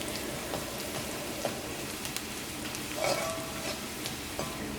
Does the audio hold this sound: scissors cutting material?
no